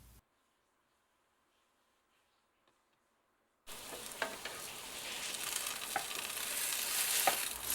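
Brioche French toast frying in a pan, near silence giving way abruptly to a loud, steady sizzle that builds slightly and carries on with faint crackles and pops.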